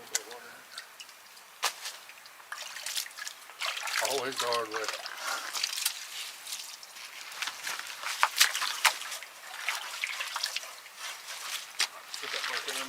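Water pours and sloshes in short bursts close by over a gold pan during gold mining, with someone talking over it and some clinking and handling noises.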